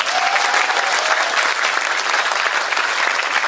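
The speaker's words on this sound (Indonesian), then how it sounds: "Untung tepuk tangan." An audience at a religious lecture applauds: dense, steady clapping from many hands, close and even throughout with no voices over it.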